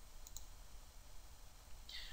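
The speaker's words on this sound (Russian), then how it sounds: "на панели редактирования тела кликаем по кнопочке «Сечение»" Computer mouse clicking during AutoCAD 3D modelling work, a few small, sharp clicks, close but faint against a quiet room background.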